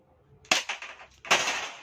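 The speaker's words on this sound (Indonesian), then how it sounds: "tembakan pertama" Two sharp, loud gun reports at a target two meters away, a little under a second apart, each with a crisp crack and short decay, with a smaller pop between them.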